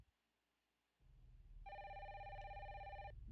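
A telephone bell rings loud and close after a quiet start, a rapid trilling ring lasting about a second and a half over a low rumble.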